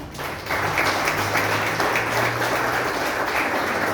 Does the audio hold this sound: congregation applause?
yes